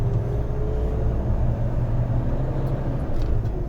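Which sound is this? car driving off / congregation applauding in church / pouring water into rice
car driving off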